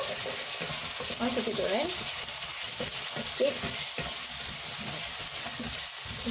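Mutton soup ingredients sizzling and frying in a pot over high heat while being stirred, a continuous crackling hiss with scraping stir strokes, and a voice briefly speaking nearby.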